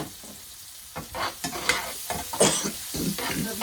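Sliced onions sautéing in a pan are stirred with several scraping, clattering strokes over a continuous sizzle, close and fairly loud.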